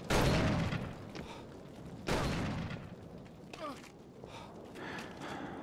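Gunfire in the horror video game Call of Cthulhu: Dark Corners of the Earth, two loud sharp blasts a couple of seconds apart with decaying tails, mixed with faint game movement and breathing sounds.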